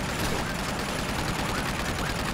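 Rapid gunfire from the video game Uncharted 2 plays as a dense, continuous burst of shots throughout, loud and steady with no clear pauses.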